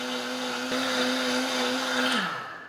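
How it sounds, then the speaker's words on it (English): A kitchen blender grinds with a loud, steady motorized whir that holds evenly for about two seconds, then winds down as the motor slows near the end. "And we're just going to let that grind."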